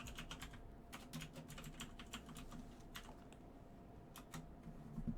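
Steady computer keyboard typing, a fast run of light clicky keystrokes over a low background hum, with a few louder key taps along the way.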